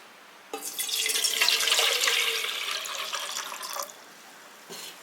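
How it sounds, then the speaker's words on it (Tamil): Water poured from a vessel into a puttu steamer pot in a home kitchen, a continuous close splashing pour lasting about three seconds, then a short second splash. "ஒரு அரை தண்ணி விடுற மாதிரி நம்ம ஊற்றிக்கலாம்"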